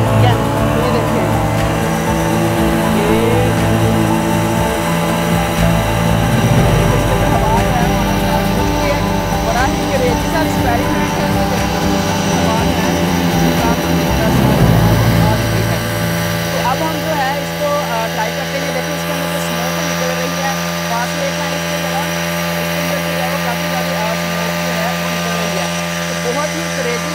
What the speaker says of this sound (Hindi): जैसे मोटरसाइकिल की हम रेस ज़्यादा करेंगे देखिएगा इसके अंदर हवा जो है वो आना स्टार्ट हो जाएगी।